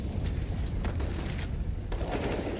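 Gunfire crackles in a Counter-Strike esports match between Complexity and Ecstatic, as dense bursts of rapid shots that are loud and continuous across the whole stretch, with no voices.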